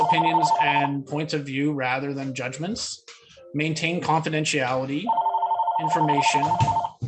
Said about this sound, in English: Sorry about the phone call. The phone literally doesn't ring here all day.